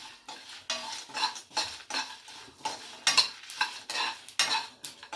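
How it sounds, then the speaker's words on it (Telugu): Sesame seeds, peanuts and spices dry-roasting in a pan while being stirred, giving rhythmic scraping and rattling strokes with a faint sizzle, close and alone without any voices. "తర్వాత కొద్దిగా నువ్వులు, ఇవన్నీ దోరగా వేయించుకోవాలి."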